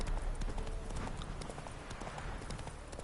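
A horse's hooves clip-clop at a gallop in The Witcher 3: Wild Hunt, a rapid irregular drumming over a busy game soundscape, moderately loud throughout the short stretch.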